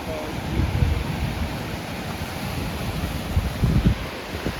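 Wind buffets the microphone while sea waves surge and wash in at a steady distance, with a couple of louder rushes of surf.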